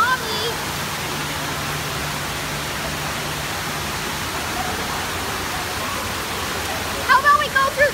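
A shower runs steadily at a public swimming pool, a continuous broad hiss of falling water close by, with a brief voice and splashy clatter near the end.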